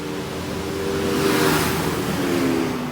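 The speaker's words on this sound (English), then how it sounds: "they're gonna have a speeding car." A speeding pickup truck's engine roars past, swelling louder toward the middle and easing off, with a steady low rumble throughout and no talking.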